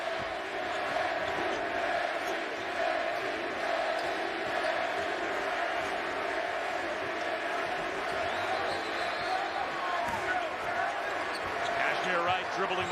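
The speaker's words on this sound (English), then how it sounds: "Crowd chanting Yancey Gates' name" A basketball arena crowd at Cincinnati hosting Marquette chants player Yancey Gates' name, a dense, sustained roar filling the space, with a commentator talking over it.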